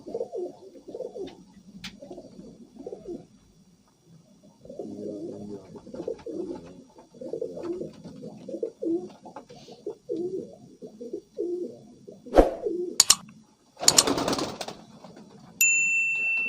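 Soft pigeon coos murmur steadily through most of the clip at a moderate level, followed near the end by a few sharp metallic clanks and a brief burst of noise.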